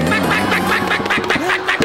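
A person imitates a startled hen with a rapid run of squawking, clucking vocal bursts, loud and close, repeated several times across the short stretch with no other talk.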